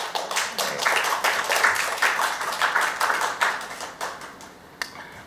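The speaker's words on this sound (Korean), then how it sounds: "이게 맞으면 좀 박수 한번 주십시오." An audience at a disability mobility-rights forum gives a burst of applause, many hands clapping together at close range, then thinning out to a few scattered claps near the end.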